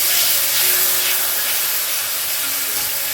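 Water poured into a hot pan of spices bursts into a loud, dense, continuous steamy hiss that stays close and fills the whole stretch without a break.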